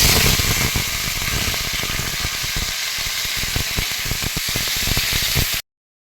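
Onions fry in oil in a pan with a loud, continuous sizzling hiss and crackle, close up and steady, then cutting off abruptly near the end.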